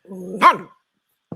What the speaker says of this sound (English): Sorry, that was the dog.